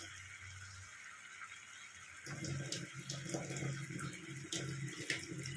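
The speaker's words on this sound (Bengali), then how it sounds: "এবার আমি এতে অল্প জল দেবো।" Water poured into a pan of Bengali chicken curry, a steady close splashing and sizzling rush that starts suddenly about two seconds in after quieter kitchen background, with no talking.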